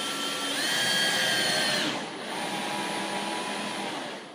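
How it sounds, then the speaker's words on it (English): A power drill whirs steadily into wood for a few seconds, a high motor whine that dips briefly midway and then carries on at a slightly lower pitch, close and alone without talk. "let's start drilling"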